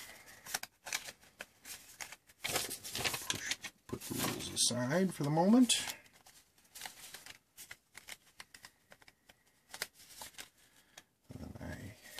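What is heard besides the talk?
shuffling a deck of playing cards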